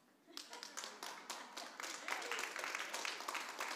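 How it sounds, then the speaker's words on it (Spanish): A small audience gives light, scattered clapping during a church sermon, moderate and close, building slightly over a few seconds. "Solo medio aplauso."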